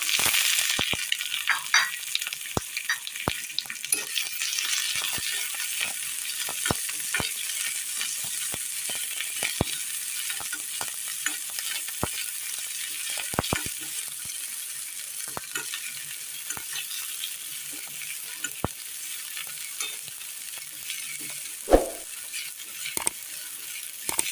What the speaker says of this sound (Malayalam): എണ്ണ ഒന്ന് ചൂടായി കിട്ടിയിട്ടുണ്ട് ഇതിലേക്ക് കടുക് ഇട്ട് കൊടുക്കാം